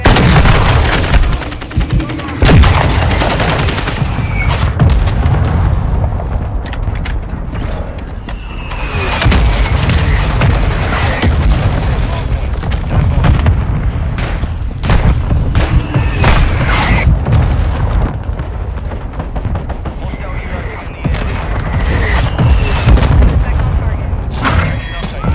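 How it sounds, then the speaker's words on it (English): Mortar strike explosions in a close-quarters military shooter game, heavy booms and gunfire rolling over a dense, loud battle din, with voices talking over it throughout. "Mortar strike"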